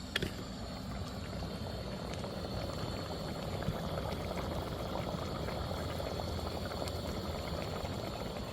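Fish curry boils in a pot, giving a steady, soft bubbling simmer that runs evenly throughout without any talking.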